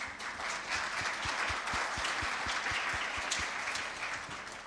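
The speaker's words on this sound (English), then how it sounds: "Ladies and gentlemen, please welcome them with a big round of applause." Audience at a G20 financial stability conference applauding panelists as they take the stage, a dense, steady wash of clapping with a few sharper individual claps standing out.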